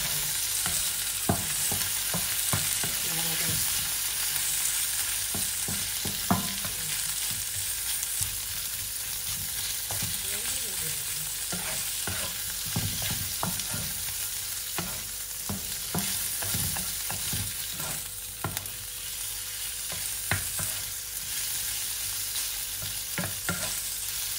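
Shrimp and bok choy sauté in a pan, a steady close sizzle punctuated by frequent sharp clacks and scrapes of stirring, with no talking.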